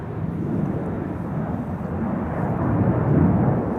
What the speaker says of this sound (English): And behind it is Delta Airlines flight 135, leaving for Detroit, Michigan. It's an A330-300.